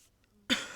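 A single short cough from a woman who is a little ill, sudden and close after near silence.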